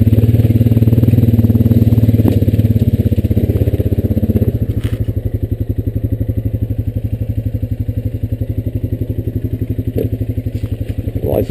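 A Honda Rancher 420AT four-wheeler runs along a wooded path. Its engine putters in a rapid, even pulse close by, with scattered clatter and scrapes from brush and terrain.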